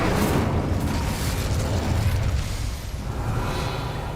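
In Hogwarts Legacy, an Incendio fire spell is cast with a loud, sustained roaring whoosh of flame that stays dense and close for about four seconds before easing slightly.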